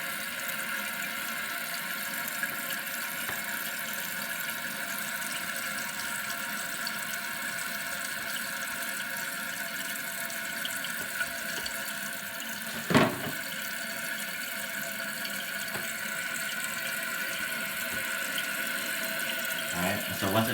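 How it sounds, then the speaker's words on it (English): Water hisses steadily into a Kohler toilet tank as it refills after a new canister flush valve seal goes in, a constant close rushing flow with a single brief knock partway through. "You can see the water is refilling and it's not leaking."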